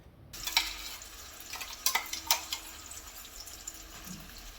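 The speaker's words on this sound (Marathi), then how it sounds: "आणि केलेलं वाटण छान परतून घ्यायचं तेलावरती" Ground masala paste frying in oil for dum aloo in a home kitchen, a steady sizzle broken by scattered clicks and scrapes of stirring, close and alone with no talk.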